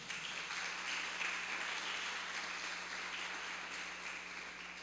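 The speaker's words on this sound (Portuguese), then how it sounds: "Você pode aplaudir o Senhor por isso?" A church congregation applauds during a Portuguese-language sermon, a faint, distant wash of steady clapping with a low hum underneath.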